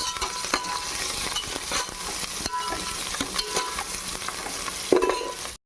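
Coriander and mint leaves sizzling and frying in a pan while being stirred for Hyderabadi bagara rice, a steady close hiss with scattered scraping clicks and one louder clatter near the end.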